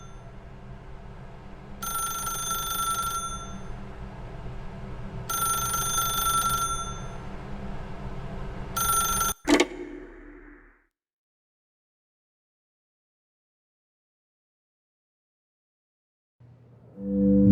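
An old-style telephone bell rings in The Stanley Parable 2, three repeated ringing bursts over a low ambient hum, the last cut short by a sharp click before near silence.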